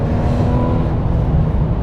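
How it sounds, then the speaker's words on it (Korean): A Mercedes-Benz E-Class with EQ Boost accelerating, heard from inside the cabin, with a steady low engine rumble and a faint rising electric motor whine above it. "웽 하는 듯한 이 증기 모터가 되게 빠르게 돌아가는 그런 소리가 좀 느껴지기도 합니다"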